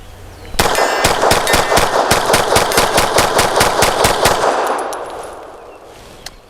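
A Bersa TPR 380 Plus pistol loaded with Max Tech 95 grain ammunition fires a rapid string of about sixteen loud, evenly spaced shots, followed by a fading ringing tail.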